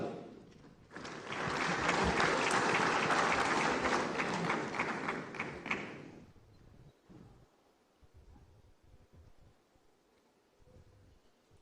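Conference audience at the 30th Afreximbank Annual Meetings applauds to welcome a special advisor to the President of Comoros, a loud dense burst of clapping for about five seconds that cuts off into quiet room noise.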